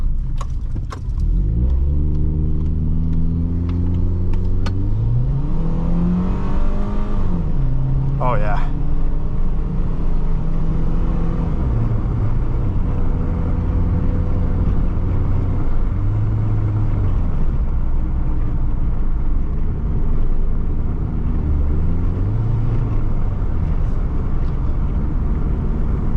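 A 2006 Subaru Forester 2.5 X engine drones and revs raspily through repeated gear changes while driving, the pitch climbing and dropping; a person speaks briefly over it.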